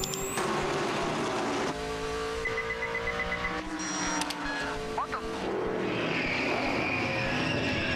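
NASCAR Cup car racing at the 2008 Coke Zero 400, a loud continuous engine roar with shifting pitch and a brief tire squeal, accompanied by music-like tonal layers.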